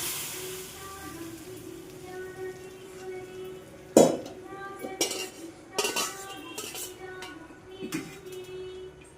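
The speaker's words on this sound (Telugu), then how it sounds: "సిమ్లో పెట్టుకొని ఇప్పుడు మనం పప్పు ఇందులోకి ట్రాన్స్ఫర్ చేసుకుందాం" Dal is spooned from one vessel into a pot, bringing sharp metal spoon clinks and scrapes against the cookware in a handful of irregular taps over a faint background hiss.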